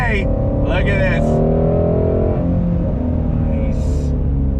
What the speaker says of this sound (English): I love the revs in this thing